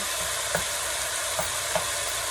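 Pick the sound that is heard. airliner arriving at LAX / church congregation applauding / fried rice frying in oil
fried rice frying in oil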